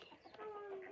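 Farm hens in an enclosure cluck softly, a few short calls and a brief drawn-out note, fairly faint and close with no talking.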